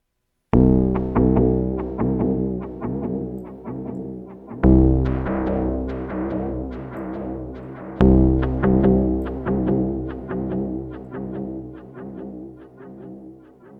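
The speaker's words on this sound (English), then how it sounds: "You can hear the wow and flutter in there as well." Three strummed guitar chords ring out through a Nemesis delay pedal, each repeating echo slightly wavering in pitch from wow and flutter as they fade.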